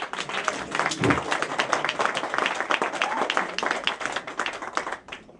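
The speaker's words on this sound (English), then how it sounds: "Another big round of applause for Spiro." An audience claps for a performer at an art installation event, a dense burst of applause that holds steady for several seconds before tapering off near the end.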